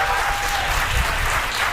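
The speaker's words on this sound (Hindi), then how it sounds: "एक बार ढंग से बजाओ तालियां" An audience bursts into loud, dense applause, many hands clapping together in a continuous roar at a comedy poetry show.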